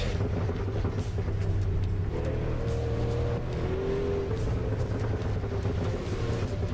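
Racing car engine in the video game Assetto Corsa, a steady low drone with a few rising and falling pitch shifts, continuous and fairly even in level throughout.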